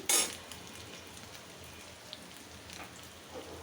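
Kebabs fry in oil with a faint, soft crackle and scattered small pops, opening with a brief loud clatter before settling into quiet sizzling.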